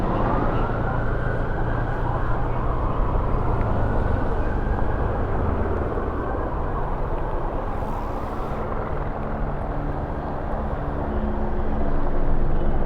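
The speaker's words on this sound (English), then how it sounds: "Oh, here goes the helicopter." A continuous low rumbling drone of a helicopter overhead, steady and fairly loud throughout, with faint voices underneath.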